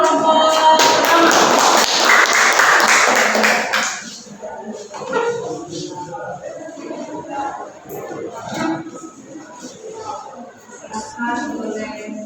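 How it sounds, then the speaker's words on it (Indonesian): A classroom group claps for the first presenting team, a dense burst of clapping for about four seconds that stops abruptly, followed by quieter scattered taps, shuffling and murmuring. "Tepuk tangan untuk kelompok pertama."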